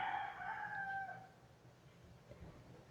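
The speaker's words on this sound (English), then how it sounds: "Damn chickens." A rooster crows once, a clear drawn-out call that fades off, followed by quiet background noise.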